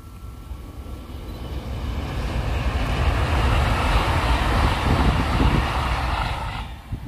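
A KCIC high-speed EMU train rushes past on a track with climbs and descents, a broad roaring wash that swells to a peak midway and then fades, heard loud and alone.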